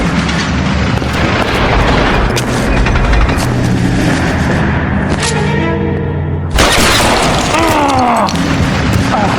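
Gunfire and heavy booming blasts fill a shootout in the video game L.A. Noire, loud and dense throughout, with a musical score and brief character voices mixed underneath.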